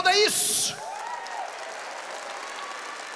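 A church congregation bursts into applause after a brief spoken line, the clapping loud at first and then quickly fading to a soft murmur of crowd noise.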